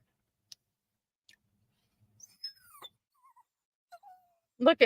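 A dog whimpers and whines begging for food, with a few thin high whines and soft clicks spread over a quiet room before a louder burst of vocal noise at the end.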